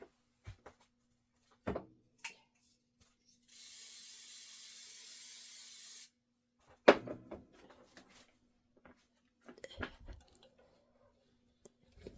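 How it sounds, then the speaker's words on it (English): One steady hiss of spray lasting about two and a half seconds coats freestanding machine-embroidered gingerbread village bridge pieces, with soft clicks and handling knocks before and after. "I'm just going to spray these, put them on."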